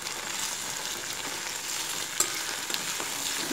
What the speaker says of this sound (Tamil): சேர்த்துட்டு வெங்காயம் நல்லா பொன்னிறமாக வர வரைக்கும் வதக்குறோம்